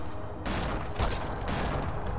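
Gunfire rattles in the video game Cortex Command as a fairly quiet, noisy stretch of shots and clattering bursts, with a sharper crack near the middle.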